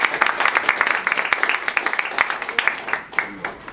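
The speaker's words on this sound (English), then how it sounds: "let's give a round of applause for our guest speaker" Audience applause for a guest speaker at an environmental justice and public health talk: a dense burst of many hands clapping, fairly close and steady, tapering off near the end.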